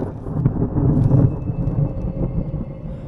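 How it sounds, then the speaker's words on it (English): Big low roll of thunder rumbling through a storm, a long deep outdoor rumble swelling then slowly fading. "that was a big roll of thunder"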